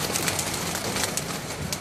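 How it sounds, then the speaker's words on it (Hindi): A pigeon held in a man's hand gives soft repeated coos close by, over steady broadband background noise. "कबूतर आप उस्ताद चौधरी मोहम्मद आरफ के हाथ में देख रहे हैं"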